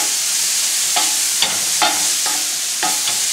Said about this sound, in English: I can actually start to scrape up those brown bits and incorporate into the mushrooms themselves.